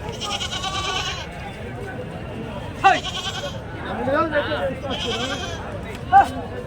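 A flock of sheep and goats bleats at the weekly Pileru livestock market. Several loud, wavering calls come from nearby, set against a busy crowd murmur, and people talk throughout.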